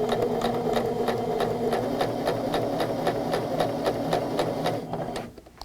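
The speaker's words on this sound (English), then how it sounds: "As we get ready to sew the melon onto the block, I'm going to position this underneath my presser foot" A sewing machine stitches a quilt block, a close, steady rapid needle chatter running continuously before slowing and stopping near the end.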